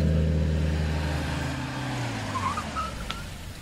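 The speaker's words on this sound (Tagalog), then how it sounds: "Mapidlang ha, ipaigid ko ti kotse." A car pulls over to the roadside, its engine hum running loud and steady at first, then easing lower as it slows, with a couple of faint higher tones near the end.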